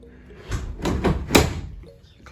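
A van's side door slides and shuts after repair, with a few rolling scrapes and thuds leading to a firm closing knock, close up with talk around it.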